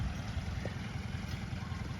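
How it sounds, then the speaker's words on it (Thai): A Kubota L2201 tractor engine with a leaking valve runs at a steady idle with its air intake removed, giving a continuous low, rhythmic puffing rumble close by throughout. "ถอดไอดีฟังเสียงครับมันจะดังบุกบุกบุกบุกบุกบุกบุก คืออาการของวาล์วรั่วครับ"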